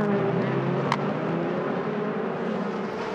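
Onboard a prototype race car screaming at about 180 mph into the stadium section at the 6 Hours of Mexico, a loud sustained engine roar from the cockpit, steady and unbroken with a brief sharp transient.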